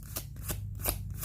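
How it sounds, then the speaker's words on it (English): Tarot cards shuffled by hand and flipped out onto a table, a few quick crisp riffles and flicks close by within about a second. "I'm going to take in the cards that flip out onto the table, please."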